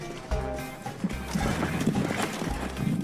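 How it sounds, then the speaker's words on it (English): A horse's hooves clip-clop at a steady walking rhythm, fairly close and loud, with a brief whinny and a busy background of other noises mixed in. "Cal Pilkington on an horse."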